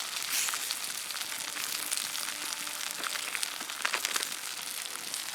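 Bhola fish frying on a banana leaf at a picnic, giving a steady, soft crackling sizzle with faint pops throughout, no voices.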